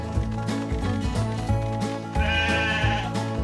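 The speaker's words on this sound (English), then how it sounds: "Gather these sheep and bring them to me." Sheep in the Paw Patrol Academy video game bleat repeatedly in short, close, cartoonish calls. Upbeat game music plays underneath, and a brighter chime sound enters near the end.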